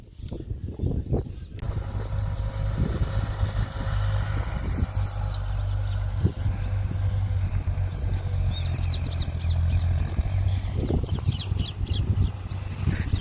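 A tractor engine runs on a farm orchard plot with a steady, low, droning rumble that stays close and fairly constant, while birds chirp faintly over it.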